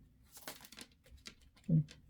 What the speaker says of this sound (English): I'm going to go ahead and pull some oracle cards to see what other messages we have.